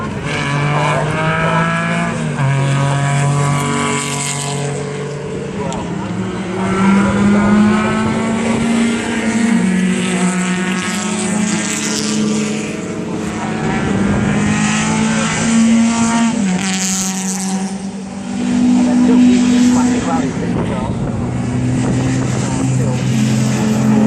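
Porsche 911 SC works rally cars lapping a circuit at a historic rally event, engines droning loudly and steadily with rising and falling revs as cars pass, under continuous commentary.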